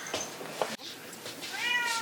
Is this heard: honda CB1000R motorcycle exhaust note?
no